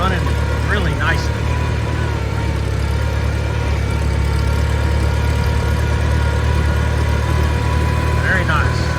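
A 1952 Farmall Super C tractor engine runs steadily at a fast idle, a loud even low-pitched chug with a constant mechanical rumble and a few faint squeaky chirps.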